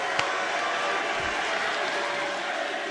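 A wrestling arena crowd at an AEW Dynamite show cheering and applauding, a dense, steady roar of many voices filling the space, loud and unbroken.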